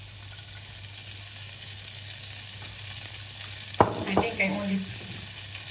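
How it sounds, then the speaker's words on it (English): Bean sprouts frying in a pan give a soft, even sizzle, then a burst of stirring and scraping clatter near the end, close by with no talk. "In the same pan, we will saute our"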